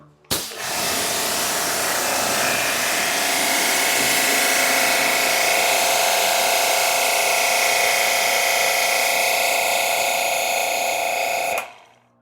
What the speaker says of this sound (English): Now let's turn the pressure washer on.